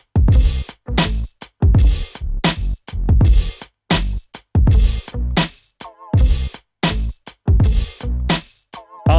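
Hip hop song with an Orion drum bus processor engaged on the drums: loud, punchy kick and snare hits strike in a steady rhythmic pattern with dense full-range energy and brief gaps between hits, no talking.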